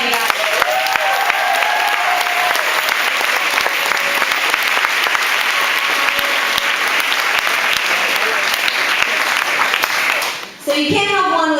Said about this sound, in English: Let's give him a round of applause, you guys.